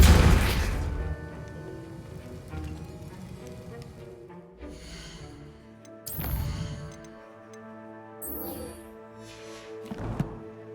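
Depulso spell impacts in Hogwarts Legacy: three separate bursty whooshing hits over a layer of sustained musical tones, loud and close, with a heavy crash at the start.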